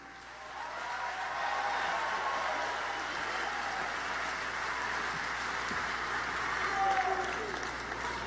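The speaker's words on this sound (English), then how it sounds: "Please give a big round of applause to Representative Carlos Trujillo." A rally crowd in Miami applauds Representative Carlos Trujillo ahead of a Donald Trump campaign event, a broad, rain-like wash of clapping from a large hall that holds steady throughout and swells slightly near the end.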